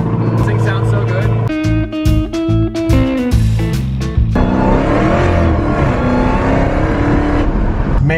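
A damaged, totalled Chevrolet C8 Corvette sports car cold-starts and its engine catches with a loud rising roar, then settles into a busy, rumbling idle, while people talk loudly over the sound.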